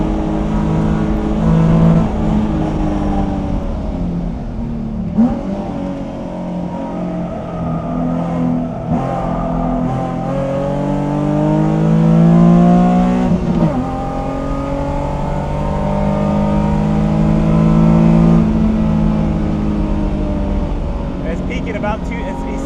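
Nissan S13 track car with a VQ35HR engine swap accelerates hard on a race track, the loud, close engine climbing toward redline through repeated gear shifts with brief dips between pulls, a driver speaking over it.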